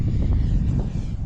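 A Freewing F-5N 80mm electric ducted-fan model jet flying overhead on its maiden flight, a loud, rushing whoosh with wind buffeting the microphone, steady over a short stretch.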